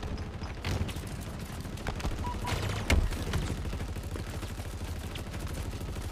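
Rapid automatic gunfire in a shooter video game, dense bursts of shots rattling continuously with a heavier blast near the middle, loud and steady throughout.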